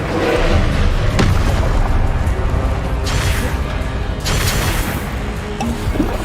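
Fire spell bursts from the Incendio charm in the Hogwarts Legacy video game, loud whooshing booms layered over dense, continuous game noise, with a couple of sharp blasts standing out.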